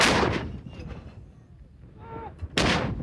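Two loud booming reports from a British artillery gun firing in Belize in 1994, one at the start and another near the end, each leaving a rumbling decay, with a voice heard faintly between them.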